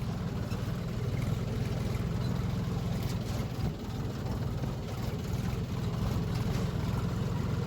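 A farm tractor drives and turns onto a highway, its engine giving a steady, loud, low rumble that dips briefly midway before resuming.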